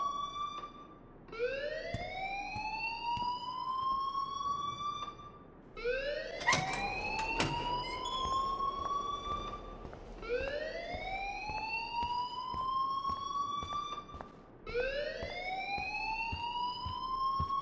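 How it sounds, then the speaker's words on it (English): A fire alarm in the video game Life Is Strange wails in repeated rising sweeps, four or five cycles with short gaps between them, loud and steady with no talk. "please turn off that alarm since that's your job"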